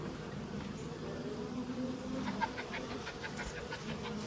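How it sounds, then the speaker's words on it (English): Honeybees in a long hive with standard Langstroth frames make a steady, faint buzzing drone throughout, close to the open hive, with no talk. "Plenty of bees."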